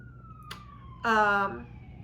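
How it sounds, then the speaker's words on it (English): A short electronic siren whoop, tonal and wavering, with a brief sharper burst of harmonics, heard fairly near over a quiet background. "to hear sirens or like an ambulance is just kind of rare"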